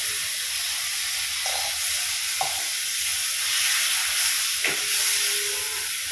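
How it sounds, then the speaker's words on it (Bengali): Water hits hot frying spices in a pan and bursts into a loud, hissing, steamy sizzle that holds steady, with a few brief clinks of stirring and no voices. "আর অ্যাড করে দিচ্ছি কিছুটা জল এর মধ্যে, যাতে মশলাগুলো পুড়ে না যায়।"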